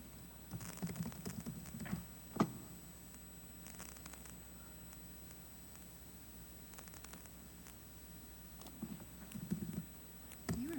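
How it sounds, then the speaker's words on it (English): Random characters typed on a computer keyboard while entering form details, with quiet scattered clicks and short bursts of keystrokes against a faint hum, one sharper tap standing out, and no speech. "I'm typing these randomly"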